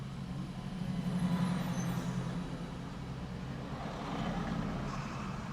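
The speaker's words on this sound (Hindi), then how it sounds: "कुछ तो है आज, इतना क्या है ट्रैफिक।" Road traffic stands in a jam: low, steady engine rumble from idling trucks, buses and cars, faint and continuous throughout, swelling slightly at moments, with no talking.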